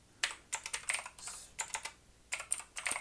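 Rapid clicky typing on a computer keyboard, entering a search for a Sinclair ZX Spectrum, comes in several quick bursts with short pauses, close and clear with no talking.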